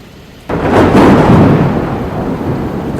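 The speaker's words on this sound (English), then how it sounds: "The storm worsened." Sudden loud thunder crash bursting in after a brief quiet moment and rolling on under steady heavy rain, close and powerful, fading slowly as the downpour continues.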